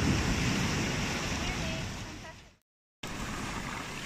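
Surf washes steadily onto Sombrio Beach, a broad continuous roar of waves with wind buffeting the microphone, briefly cut to silence before resuming.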